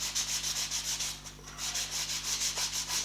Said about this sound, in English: So glue surfaces, just give them a quick rub with the sandpaper, nothing too major